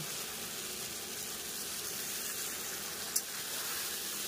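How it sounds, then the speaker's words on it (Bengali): A spice paste and tomato fry in a pan for a Bengali river-fish curry, giving a steady, even sizzle throughout with one brief sharp click near the end and no talking. "মশলাটা দিয়ে খুব ভালোভাবে কষিয়ে নেব।"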